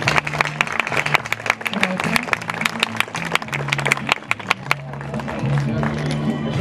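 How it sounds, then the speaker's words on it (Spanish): Audience applause at a sugarcane harvest school-year closing ceremony, brisk sharp claps rippling through a crowd over a sustained music bed, loud and close, easing off near the end. "Aplauso para ellos"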